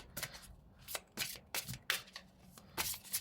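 Tarot cards being shuffled and drawn by hand, a run of crisp papery riffles and slaps in irregular bursts, close and fairly quiet, with no talking.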